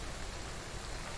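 Steady rain in the 19th-century survival video game Heat, a soft, even hiss of falling rain with no other sounds over it, faint and continuous.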